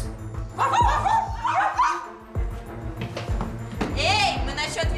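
Dogs bark loudly on command in an indoor crime drama scene, giving a rapid burst of close, overlapping barks and yips with whimpering tones, mixed with a voice and other speech.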